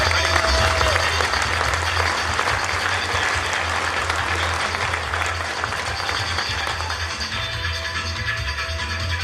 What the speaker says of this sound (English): How about a round of applause welcoming